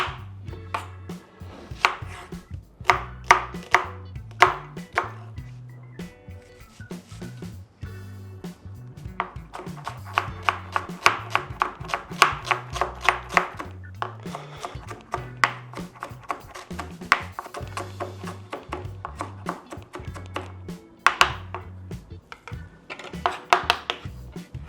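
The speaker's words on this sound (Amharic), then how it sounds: "ቀጣይም ከትፈ ደግሞ ሽንኩርት ከትፈና ደግሞ ለዚህ እናዘጋጃለን።" Onions being chopped with a knife on a board, a long run of quick, close, crisp knife strikes in steady bursts with short pauses between them, and no voices.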